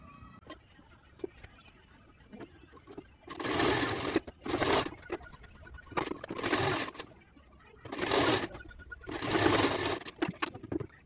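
Sewing machine running long basting stitches around the neckline of a blouse, in five loud bursts of several seconds each separated by short pauses, close by with no talking.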